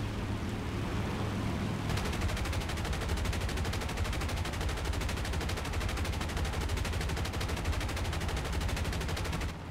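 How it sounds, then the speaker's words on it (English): .50 caliber machine guns fire in War Thunder from a PB4Y-2 Privateer bomber: after a low engine drone, a rapid, steady stream of close, loud shots runs unbroken for several seconds. "we're going to have the boys in the back light him up with 50 cals"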